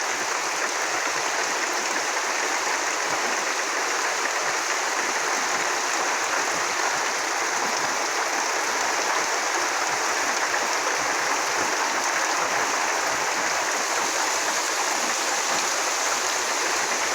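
Floodwater in Netrokona rushing fast and rising, a dense, unbroken roar of flowing water that stays loud and steady throughout, with no voices.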